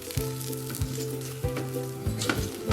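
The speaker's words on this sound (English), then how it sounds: "Once the oil is heated up, carefully place down the sausage." Sausages sizzle steadily in hot oil in a pan, a continuous crackling hiss broken by soft, regularly spaced bumps and a low hum underneath, close and moderately loud.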